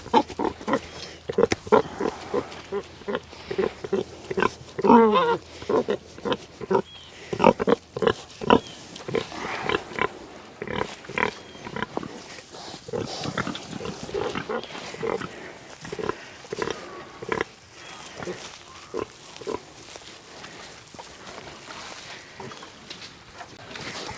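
Pigs on a small farm grunt and oink in short, repeated bursts, close and fairly loud, growing denser and more continuous toward the end.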